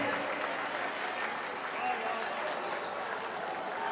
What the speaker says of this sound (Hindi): जोरदार तालियां सब लोग हाथ उठा के एक बार